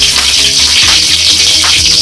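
Mustard seeds, garlic cloves and curry leaves sizzle in hot oil for a tempering, a loud, close, continuous crackle and spit with rapid popping throughout.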